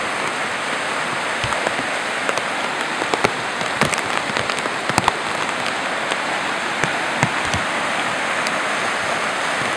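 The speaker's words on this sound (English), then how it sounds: "At least it's not windy right now, it's just raining out." Heavy rain pours steadily during Hurricane Irene in Vermont, a dense continuous hiss with scattered close drips and splats landing on a nearby surface, with no wind or voices.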